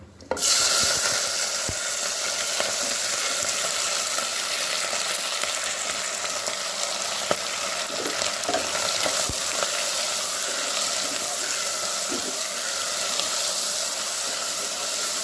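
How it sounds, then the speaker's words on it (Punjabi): Onion, tomato, green chilli, ginger and garlic fry in a cooking pot for shahi paneer, producing a loud, steady hiss throughout with a few faint stirring knocks, close and without talk. "ਇਹਨਾਂ ਨੂੰ ਅਸੀਂ ਇਦਾਂ ਹੀ ਥੋੜਾ ਜਿਹਾ ਤੜਕਣਾ ਆ"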